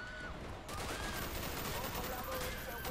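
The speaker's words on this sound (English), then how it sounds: "I'm gonna stop using this bloody machine gun" Machine gun fire in Call of Duty: Black Ops rattles in dense, continuous bursts through most of the clip, with game effects mixed in and no pauses between shots.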